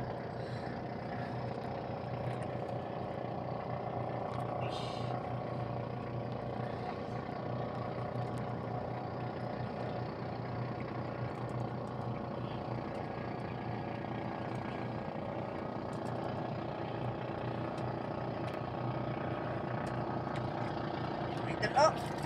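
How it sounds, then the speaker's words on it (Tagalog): A steady, droning boat engine runs continuously at close range among many fishing boats, loud and unchanging throughout, with faint voices and clatter mixed in. "Ingay ng makina."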